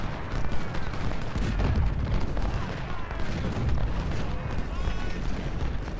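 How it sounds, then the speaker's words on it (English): Ultimate General: Civil War battle with 12-pounder cannons firing: a dense, continuous rumble of distant booms and crackling gunfire layered under ongoing talk. "12-pounders open up over here."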